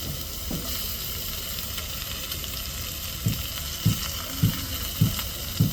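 Dried fish goes into tomato and onion frying in a pan, giving a steady close sizzle that is later punctuated by five evenly spaced stirring knocks, with no voices.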